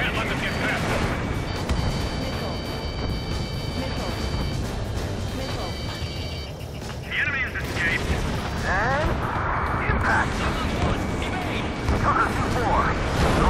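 Artillery explosions rumble without a break under loud radio chatter and combat noise during an Ace Combat 7 air battle, a dense roar of booms with no clear gaps.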